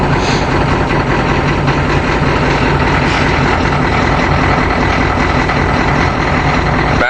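A 6.9L diesel motorhome engine runs loud and close after a cold start in snowy winter weather, giving a dense, steady, rumbling clatter that fills the whole stretch without a break.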